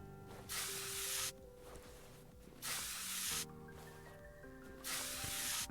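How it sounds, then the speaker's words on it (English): WD-40 is sprayed on a car wheel in Car Mechanic Simulator 2021, three separate bursts of loud, close aerosol hiss over a quiet background of soft game music tones. "Spray some WD-40 on it."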